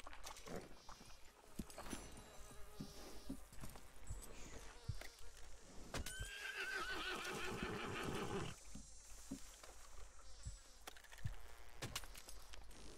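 A sick horse in a video game whinnies over the steady clip-clop of its hooves, the neighs and footsteps fairly quiet amid game ambience, with occasional speech.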